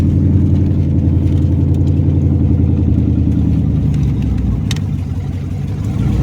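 A Chevrolet Camaro's engine hums steadily from inside the car as it shifts into first gear, a loud, continuous low drone with a slight dip partway through and no talking.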